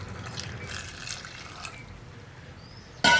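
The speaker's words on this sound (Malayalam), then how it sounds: "ഇതിലേക്ക് നമുക്ക് വെള്ളം ചേർക്കാം." Water is poured into a pressure cooker holding pieces of tender jackfruit, giving a soft steady trickling and splashing that runs close, then ends with a sharp metallic clatter at the end.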